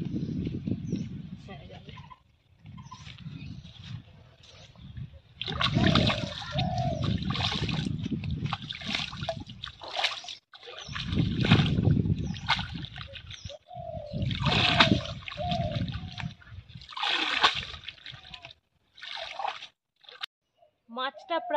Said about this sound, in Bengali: এবার মাছগুলোকে ধোবো